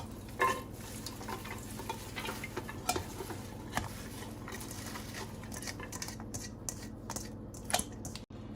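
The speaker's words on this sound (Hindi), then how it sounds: "सबसे पहले मैंने ये एक पैन लिया है, इसमें हम ये साग डालेंगे" Fresh mustard greens and spinach dropping into a pan before the stove is lit, with soft rustling, stirring and scattered light clatter running steadily at close range and no talking.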